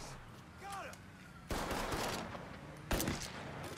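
Gunfire in the video game Mafia III, with two sharp loud shots about a second and a half apart cutting through a busy background.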